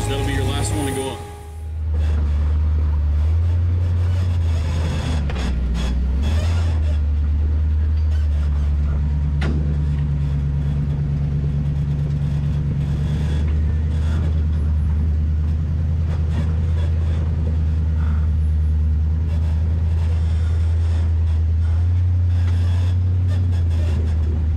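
An off-road vehicle crawls up a rock ledge in the woods, its engine a loud, steady low rumble with shifting drone tones, while people talk over it.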